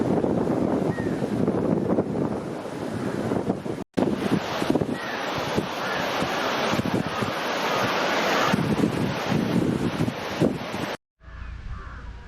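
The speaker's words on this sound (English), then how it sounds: "I would like to show you the mighty Nanuya river also." The Nanu Oya river rushes below a railway bridge in Sri Lanka, a loud, continuous broadband roar of water mixed with wind buffeting the microphone, briefly cutting out near the end.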